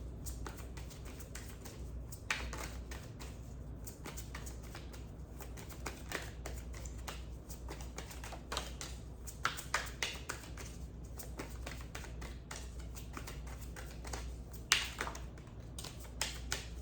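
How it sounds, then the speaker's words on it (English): Tarot cards shuffled by hand, a long run of soft, quick tapping and riffling clicks, close up and quiet, steady throughout with a few sharper snaps along the way. "I'm gonna shuffle a little bit more."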